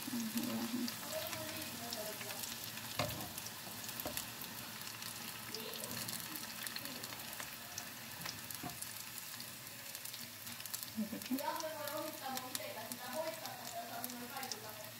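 Onion rings deep-frying in hot oil give a steady, dense sizzle that stays fairly close and even throughout, with faint voice-like tones rising briefly near the end.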